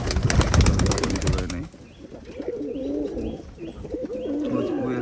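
Domestic high-flying pigeons of an old Khulna breed coo in repeated low, rolling calls after a burst of louder fluttering, heard close by and fairly steady.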